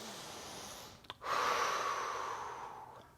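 A strong, forceful breath during an intense yoga pose: a short snort-like intake, then a long loud exhale through the nose, close to the listener.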